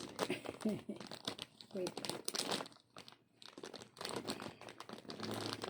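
A plastic wrapper on a pack of Croco Crackers crinkles and crunches close up as someone struggles to open it, in irregular bursts mixed with a person speaking.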